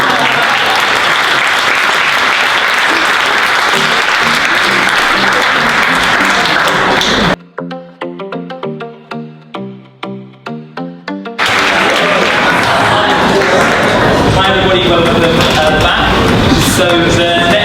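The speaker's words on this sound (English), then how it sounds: "Well now, do you want to clap?" Audience at a launch event at RADA clapping loudly in a full, continuous burst, broken midway by a short stretch of melodic music before the applause resumes.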